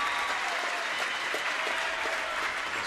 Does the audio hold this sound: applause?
yes